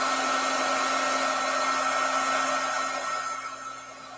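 A heat tool blows hot air over a glaze coat on rice paper in a steady, loud whooshing drone with a constant hum, easing off slightly near the end.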